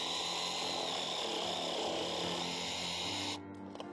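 Parkside Performance PPSTKA 12 A1 12V cordless jigsaw switched on briefly, running with a steady high whining buzz at close range before cutting off abruptly near the end.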